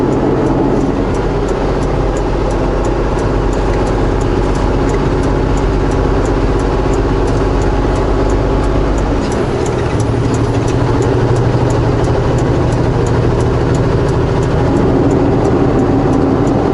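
A semi truck in 7th gear climbs the Coquihalla highway, its engine a loud, steady, close cab-interior drone with road rumble that changes tone briefly partway through.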